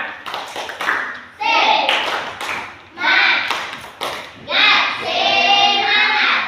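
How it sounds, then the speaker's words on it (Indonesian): Elementary schoolchildren in a PE class do a rhythmic spirit clap, quick patterned bursts of hand claps alternating with loud chanted voices, all close and lively. "Tepuk semangat."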